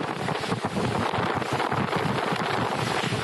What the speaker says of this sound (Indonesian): Angin kencang tiba-tiba menyapu sejumlah tenda UMKM milik warga hingga membuat panik.